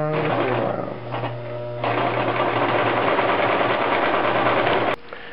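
Brother LX-3125 sewing machine stitching along a men's dress shirt collar seam, a loud, close mechanical whir that dips briefly, runs steadily again and stops abruptly near the end.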